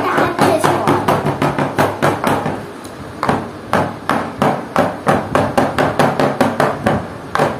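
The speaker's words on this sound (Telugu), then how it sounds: "మనం ఇలా ట్యాప్ చేసుకోవాలి." Cake batter tin for a biscuit birthday cake tapped firmly on a hard surface, a rapid series of sharp knocks in quick bursts with a brief pause midway, loud and close.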